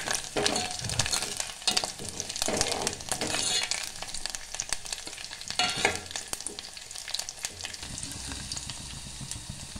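Garlic and curry leaves sizzle steadily in hot oil for a sponge gourd dish, with occasional scraping stirs and spatters, close and continuous without talk.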